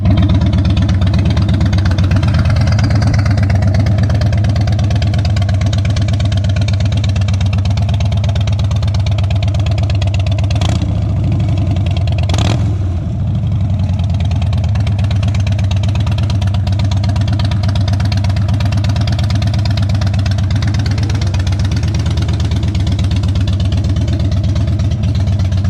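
A Harley-Davidson motorcycle engine idles close by just after an oil and transmission fluid change, a steady loping rumble with a couple of brief sharp clicks partway through, and no talk.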